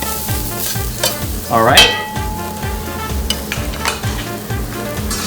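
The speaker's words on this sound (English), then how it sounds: "So now that is going to be getting sauteed in there." Food sauteing in a hot pan, a steady close sizzle with repeated rhythmic scrapes of a utensil stirring, one brief louder clatter midway, and a short spoken remark.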